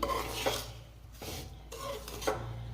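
Rice flour mixture being stirred and roasted in a kadai for pinni, with a metal spoon scraping and clinking against the pan in a few separate strokes and faint sizzling between them, with no talking.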